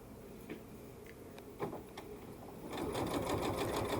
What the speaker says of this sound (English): Now I'm going to sew